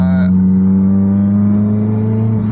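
A supercharged 2004 Ford Focus RS engine drones steadily while driving, a loud, even hum with little change in pitch, a short voice-like sound at the very start.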